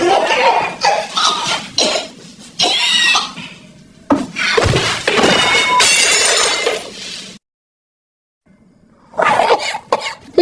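In a film scene, a man's harsh repeated coughing is mixed with a sudden crash of breaking glass and scattered clinking shards, loud and close, ending after a brief silence.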